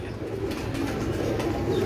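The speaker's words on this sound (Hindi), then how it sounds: "और ये दूसरी नस्ल के कबूतर हैं" Breeder pigeons on a rooftop loft in Gujranwala cooing in low, soft, repeated throaty murmurs that overlap against faint background noise.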